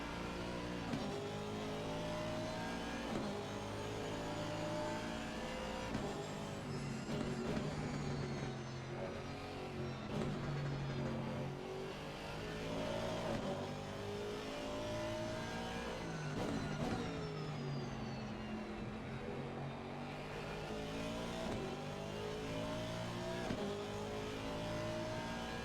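GT4 race cars lapping Imola in the racing game Assetto Corsa Competizione, with a steady engine drone that rises and falls through gear changes as cars run close together, quiet and continuous.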